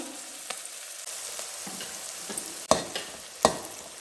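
Tomato and ground masala paste sautéing in a pan for a mutton keema gravy, a steady close sizzle broken by a few stirring scrapes and two louder knocks of the spoon.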